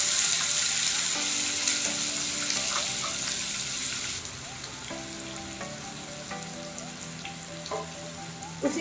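Three finely chopped large onions hit hot oil with cumin and sizzle steadily, with stirring clinks and a loud frying hiss that softens partway through.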